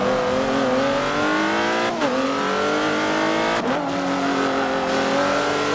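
Race cars in Forza Motorsport 7, with a loud, sustained engine drone that rises through the gears and dips at two quick shifts.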